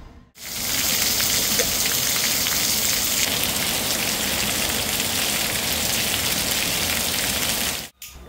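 Steady rain falls heavily on a surface, a dense hiss of drops starting abruptly and continuing evenly for several seconds before cutting off, with no talk.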